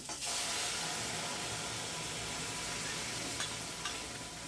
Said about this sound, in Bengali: এবার আমি এতে সিদ্ধ করা ডালটা পুরো দিয়ে দেব